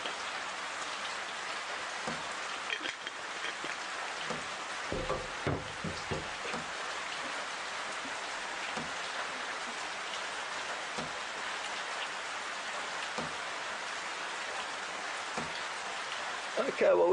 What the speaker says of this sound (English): It, as you can tell, is raining